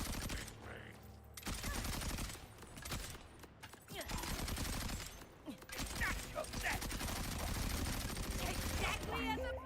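Rapid bursts of shotgun fire from a video game, dense and loud, layered with other game effects while a player talks over the action.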